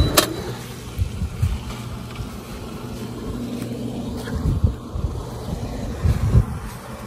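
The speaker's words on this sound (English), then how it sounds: "Let's turn the pump on." An Intex pool pump running through PVC plumbing gives a steady low mechanical hum, with occasional heavier thumps and surges rising through the drone, close by outdoors.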